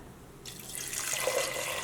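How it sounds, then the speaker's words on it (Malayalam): Water pours steadily into a pressure cooker holding lentils, a soft splashing stream that begins after a brief pause and grows a little fuller. "ഇതിലേക്ക് നമുക്ക് വെള്ളം ചേർക്കാം"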